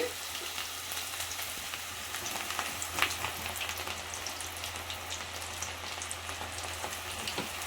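Small balls of cashew pakodi batter dropped into hot oil sizzle and crackle steadily, a dense bubbling hiss with faint pops that holds at an even level throughout.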